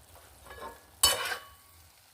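Til mocha, banana flower cooked with sesame, sautéing in a pan, a quiet simmer broken by a sudden sharp burst of sizzling and scraping from a stir that fades back down.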